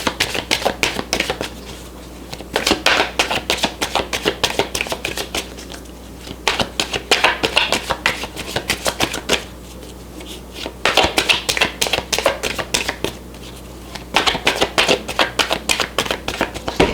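Tarot cards shuffled over and over in quick riffling bursts, a dense crisp flutter that pauses briefly between rounds, close to the microphone with no talking.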